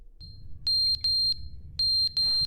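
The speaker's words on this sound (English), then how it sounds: "Alarm! Alarm!" Alarm in The Stanley Parable: Ultra Deluxe sounds four loud, piercing electronic beeps in two pairs, each beep held for about a quarter second, over a low background rumble.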